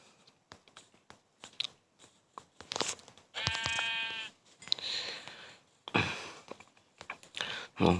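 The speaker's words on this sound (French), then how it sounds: "On a un autre mouton là-bas." Sheep bleating in the video game Minecraft, one long wavering nasal bleat in the middle among scattered short clicks, thuds and sniffing game sounds, close and clear without talking.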